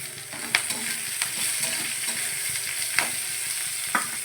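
Chopped onion frying with chillies in a pan for chow mein, a steady soft sizzle with occasional sharp scrapes of a spatula stirring, close and alone.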